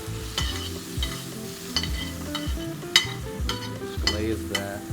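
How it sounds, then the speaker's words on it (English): Vinegar hits a hot pan holding a duck leg stuffed with chistorra sausage, bursting into loud, crackling sizzling with sharp spits and a few metal clinks of stirring, close up and without talk. "And then I'm gonna hit it with the vinegar."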